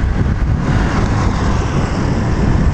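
Steady roar of road traffic close by, broadband rumble of passing vehicles with constant loudness and no voices.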